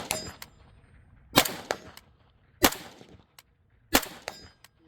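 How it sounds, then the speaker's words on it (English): Four sharp gunshots from a 5.45 rifle at an outdoor range, spaced roughly a second apart and ringing out with a short echo, with no talking. "let's put some rounds down range"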